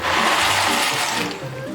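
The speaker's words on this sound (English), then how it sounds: "pour the noodles in" Dry noodles from a box tipped into a pot of intensely boiling water, giving a loud, continuous rushing splash for under two seconds with no talking.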